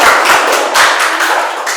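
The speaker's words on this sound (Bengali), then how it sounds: "জোরে হাততালি একবার" Loud applause from a crowd at a medical college quiz competition, close and dense, with a few heavier thumping claps near the start, tapering slightly toward the end.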